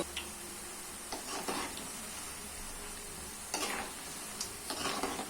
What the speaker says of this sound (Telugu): కొంచెం గోల్డ్ కలర్ వచ్చేంత వరకు వేయించుకోండి